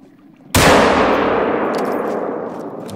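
One loud gunshot from the hunting video game theHunter: Call of the Wild cracks suddenly, followed by a long ringing decay that fades slowly over the next couple of seconds.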